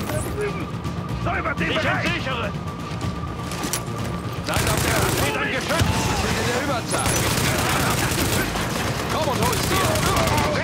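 Heavy gunfire and bursts of automatic fire roar continuously in a Division shootout, dense and loud with booming hits, while a voice speaks over the chaos.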